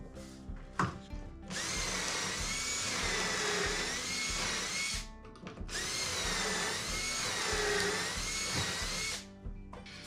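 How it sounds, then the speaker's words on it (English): A power drill boring pocket holes into wooden stiles and a header for a storage cabinet, two long steady whining bursts close by, each with a brief start-up and a stop between them, no talk. "I'm going to join them with pocket holes."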